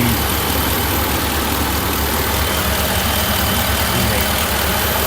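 A 2019 Ram 1500 Bighorn with the 5.7L HEMI V8 and eTorque idles up close under the open hood, giving a loud, steady, continuous rumble throughout.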